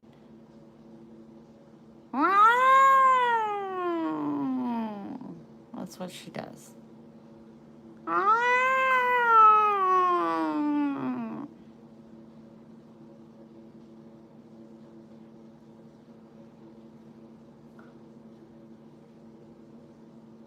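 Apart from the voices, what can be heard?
cat growling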